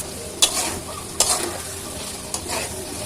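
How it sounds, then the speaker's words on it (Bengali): Dried loitta fish (Bombay duck) and potatoes sauté in spiced oil in a pan, a steady soft sizzle broken by three sharp scraping stirs, close and clear with no voices. "শুটকিটাকে ভালো করে কষিয়ে নিয়ে এখানে আমি কিছু আলু অ্যাড করবো"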